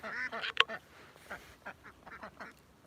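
Ducks at a horse barn quacking in a quick burst of loud, close calls, followed by softer scattered quacks and faint background noise.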